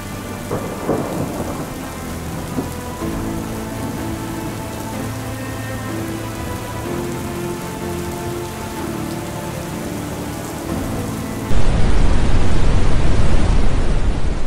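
Heavy typhoon rain from Typhoon Bebinca pours steadily over farmland in China, a dense continuous hiss with low rumbles of thunder rolling beneath, swelling to a louder, harsher downpour near the end.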